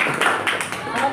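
Students in a classroom Islamic religious education lesson give a brief burst of hand clapping that overlaps with a spoken voice.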